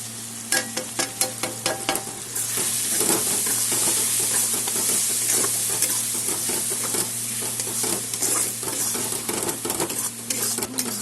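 A spice paste of cumin, coriander and chilli powders fries in a pan, with a steady loud sizzle, repeated stirring scrapes and clinks of a utensil against the pan, close up and with no talking.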